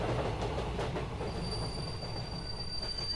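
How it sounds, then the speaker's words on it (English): A train screeches as it brakes to a stop, a sustained high metallic squeal of wheels over a low rumbling roar, heard alone at moderate distance. "The screeching of the train coming to a stop jolts me"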